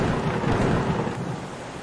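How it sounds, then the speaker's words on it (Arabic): An animated thunderstorm over a stormy sea rumbles with a dense, continuous roll of thunder and rain noise, loud and sustained, with no voices. "يومض البرق ممزقا الغيوم السوداء المضطربة"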